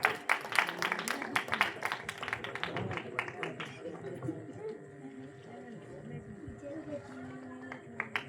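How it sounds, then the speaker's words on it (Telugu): A group of people clap their hands together in a parish gathering, a dense burst of many overlapping claps that is loudest at the start and then thins into scattered claps under background murmur. "చప్పట్లు కొట్టాలి."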